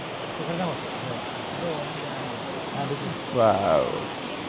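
Steady broadband rush of Barachukki waterfall fills the background, with voices talking over it at moderate level.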